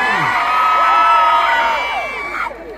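A festival crowd at an outdoor live music show screams and cheers loudly, a dense wall of high-pitched shrieks and whoops that holds steady for over two seconds before fading and cutting off.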